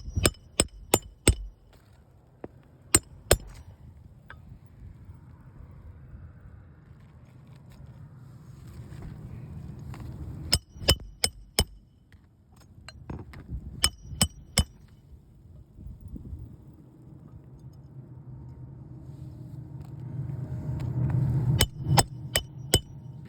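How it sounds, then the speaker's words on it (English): Hammering during a roof shingle repair, sharp loud strikes in quick clusters of two to four blows separated by pauses, over low background shuffling and movement. "There's all this moving and hammering."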